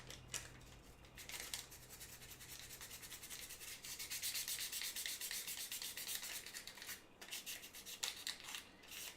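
Sanding film rubs steadily against a workpiece in close, continuous scratchy strokes that rise in the middle and pause briefly near the end, quiet and without speech.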